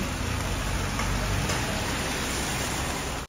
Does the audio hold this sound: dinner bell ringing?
no